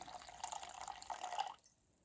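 A thin stream of water is poured into a sourdough porridge bread mix of steel-cut oats, trickling close and soft for about a second and a half before stopping.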